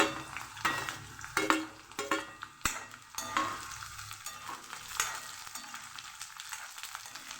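Green chillies are sautéed with garlic in a hot pan for Maharashtrian thecha chutney, giving a steady close sizzle broken by repeated scraping stirs and a sharp utensil knock, with no talk.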